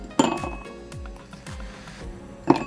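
Glasses clink sharply while a festive Christmas holiday drink is mixed at home: a bright clink at the start, a few softer knocks and thuds in between, then another ringing glass tap near the end, close and alone.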